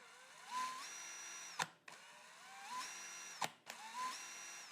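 A Festool CXS 12 cordless drill runs three short bursts. Each whine climbs in pitch, holds briefly and ends in a sharp click as the motor stops. The sound is quiet and close, with no voices.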